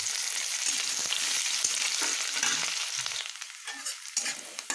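Carrots dropped into hot oil tempered with five-spice, dried red chillies and bay leaves, giving a loud, dense sizzle close up that thins and crackles more unevenly toward the end, with no talking.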